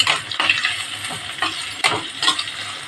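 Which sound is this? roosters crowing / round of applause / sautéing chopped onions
sautéing chopped onions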